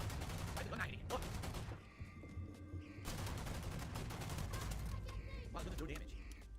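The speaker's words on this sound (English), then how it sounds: "Why is the gun not hitting?" Rapid bursts of video game gunfire crackle through most of the stretch, loud and dense, with a brief lull near the middle before the shooting resumes, while someone talks over it.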